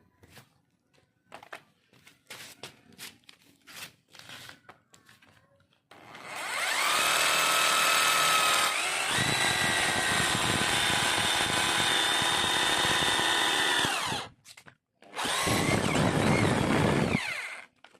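After a few scattered knocks, a loud, harsh RYU RRH26 rotary hammer grinds continuously into hard cement for several seconds, pauses briefly, then starts again, close and dominant.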